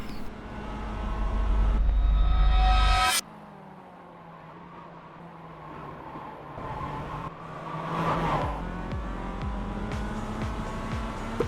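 Race car engines in the iRacing sim, a loud high revving whine that cuts off abruptly around three seconds, followed by a steadier engine drone with cars passing closely during the overtake.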